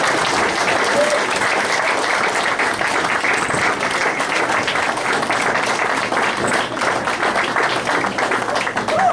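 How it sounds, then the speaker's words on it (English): Sustained applause from a large audience at a Hall of Fame ceremony, dense clapping holding steady and loud for the full stretch with no speech over it. "please join me in giving a big round of applause"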